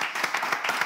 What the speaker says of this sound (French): C'est maintenant, il faut applaudir.